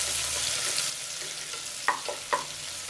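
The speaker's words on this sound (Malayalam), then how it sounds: "ഇനി നമുക്ക് ഇതിൻ്റെ കൂടെ നമ്മൾ നേരത്തെ അരിഞ്ഞു വെച്ചിരുന്ന സവാള ചേർക്കാം. നല്ലപോലെ ഒന്ന് വഴറ്റി കൊടുക്കാം." Chopped onions sautéing in a pressure cooker for biryani, a steady close sizzle and fry with a couple of sharp spoon scrapes and knocks near the end, no talking.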